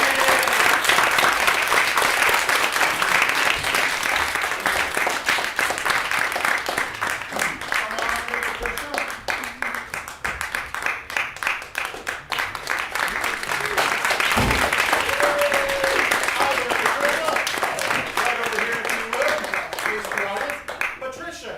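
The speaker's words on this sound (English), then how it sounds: "Give Patricia a round of applause." A stage audience at a magic show gives a long, loud round of applause, dense clapping rising and falling with a voice heard talking over it.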